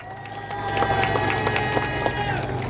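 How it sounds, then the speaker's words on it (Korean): Crowd clapping at an outdoor election campaign rally in Andeok and Daejeong, Seogwipo, Jeju, for a Democratic Party National Assembly candidate; dense, moderately loud clapping with scattered sharp claps over a steady low hum. "여러분 박수 한번 쳐주세요."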